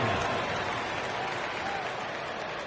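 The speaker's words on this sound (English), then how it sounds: "Give yourself a round of applause." Simulated arena crowd in the NBA 2K26 basketball video game applauds in a dense, steady wash of clapping and crowd noise, fairly loud and unbroken.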